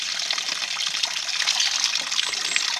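Cold spring water from the Mureș river, poured during a baptism on Muntele Negru, gushes and splashes in a continuous close stream with no voices over it.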